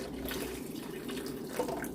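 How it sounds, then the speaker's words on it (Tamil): Water steadily poured into a pot of vegetarian mutton-leg-style soup, a continuous soft splashing and trickling stream held close and fairly quiet, with no talk over it. "3 பெரிய கப்பால் தண்ணி ஆட் பண்ணியிருக்கிறேன்."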